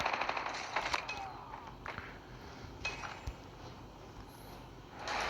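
A sentry gun firing in Call of Duty Mobile, heard as a quick rattling string of automatic shots at moderate loudness, then sparser single bursts and quieter game sounds.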